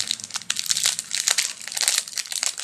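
A small AliExpress package being opened, its plastic wrapping crinkling and crackling in quick, irregular bursts right up close, with no talking over it.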